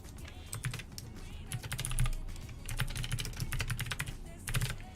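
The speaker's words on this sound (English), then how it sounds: "We're just going to go ahead and type in our wellness partner." Rapid typing on a computer keyboard while entering text into a website builder, a steady run of close, crisp key clicks with a few brief pauses and no voice over it.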